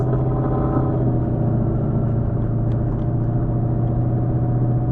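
A vehicle with a built Stage 3 RSA 10R80 automatic transmission cruises along, its engine a steady mid-pitched drone with a smooth, even tone and no distinct revving, heard from inside the cabin with no talking.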